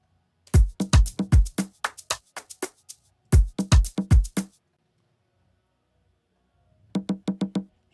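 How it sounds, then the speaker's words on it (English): A second sampled conga plays in a produced beat: two short bursts of quick resonant drum strokes, then a pause, followed by a brief run of lighter, evenly spaced hits. "So that is also a conga."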